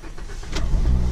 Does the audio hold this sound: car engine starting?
yes